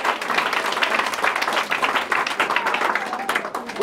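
A church congregation claps and cheers to acclaim the Lord, a dense, steady wash of applause running throughout, with voices mixed into the crowd noise.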